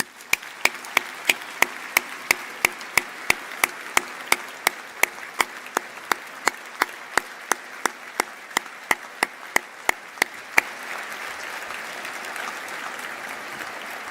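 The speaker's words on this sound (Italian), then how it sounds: "A lui, in segno di ringraziamento per tutto quello che ha fatto per noi, indirizziamo un affettuoso applauso." Audience applause at a 2017/2018 university academic year inauguration: sharp, evenly spaced claps over a steady, dense wash of crowd clapping that continues alone after the rhythmic claps stop.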